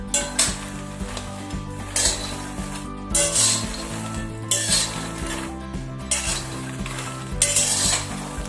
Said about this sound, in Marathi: त्यात मखाने टाकूया आणि हिला छान असा रोस्ट होईपर्यंत आपण ह्याला भाजून घेऊया